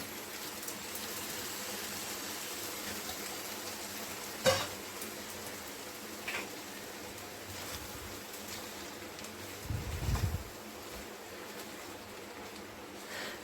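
Spice paste frying in oil in a pan while cooking teasel gourd, a faint steady sizzle with a few brief clatters and stirring scrapes, no talking.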